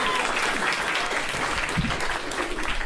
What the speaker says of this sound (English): Please make some noise for the very funny Craig Stewart.